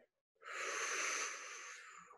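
Children breathe out together during a yoga stretch, a single long, airy exhale after a brief silence, trailing off softly.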